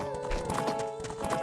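Epona, the horse in The Legend of Zelda: Ocarina of Time, clip-clopping at a steady trot with a neigh over the hoofbeats, close and clear against a tonal game music background.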